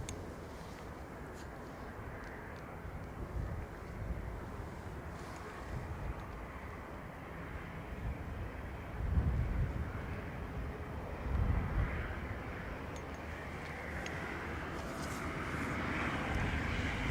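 A jet airliner, EI266 bound for Birmingham, taxis across runway 16/34 at Dublin Airport on a windy day, a distant steady engine roar with gusts of wind buffeting the microphone.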